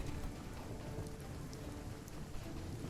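Thunder from lightning strikes rolls through a steady downpour of rain in RuneScape: Dragonwilds at night, a continuous low rumble under dense, even hiss without any voices.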